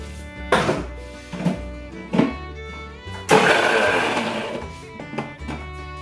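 A kitchen mixer grinder grinding masala paste with lemon juice for karimeen pollichathu runs in several short pulses, each whirring burst stopping after about a second, then one longer grind that trails off before more brief pulses.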